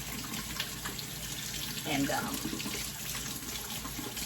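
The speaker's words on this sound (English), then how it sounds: "so I'm gonna wash my hands" Tap water runs into a kitchen sink while hands are washed during cooking, a soft steady hiss with faint splashing, heard close but quiet beneath a brief word of speech.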